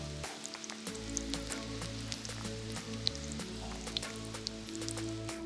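Shami kebab mutton patties fry in a pan with a steady, quiet sizzle, crackling and spitting oil pops scattered throughout.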